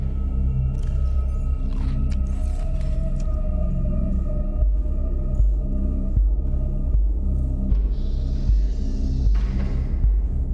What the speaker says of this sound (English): in my ears, it's like, it sounds like your heartbeat